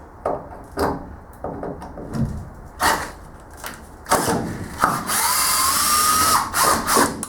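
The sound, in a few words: power drill driving screws into wooden shelf board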